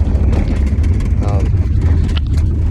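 A Ram pickup truck engine with its check engine light on gives off a steady low rumble with a rattle running through it, continuous and close, while a person talks over it.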